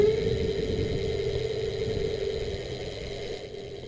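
An Ancheer electric mountain bike's motor runs under twisted throttle, giving a steady close whine that holds level for a few seconds and eases slightly at the end.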